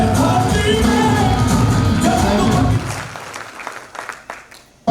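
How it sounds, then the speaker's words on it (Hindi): A seminar audience breaks into loud, dense applause that holds strong for nearly three seconds, then thins out to scattered claps and fades away. "तो मैं चाहता हूं कि सब लोगों के लिए एक जबरदस्त ताली होनी चाहिए।"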